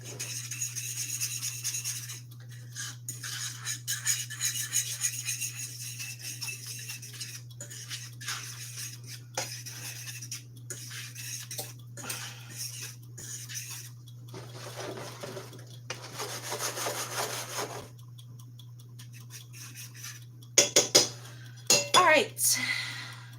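A fork stands in for a whisk, scraping and clinking against a bowl in quick bursts and rubbing strokes broken by pauses, with a steady low hum underneath and a few sharper clinks near the end.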